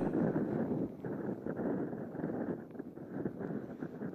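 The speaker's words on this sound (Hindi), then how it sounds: "इतनी तेज हवा और साथ में रेत उड़ने लगी" Strong cyclone wind from Cyclone Biparjoy's landfall on the coast blows steadily, whipping up sand as a loud continuous roar with heavy buffeting gusts on the microphone.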